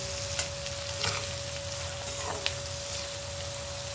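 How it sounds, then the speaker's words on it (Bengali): Onion fries over a medium flame in a pan with ginger paste and spice mix, giving a quiet continuous sizzle with a few scattered pops and stirring scrapes. "আর একটু লাল লাল করে ভাজা হবে পেঁয়াজটা"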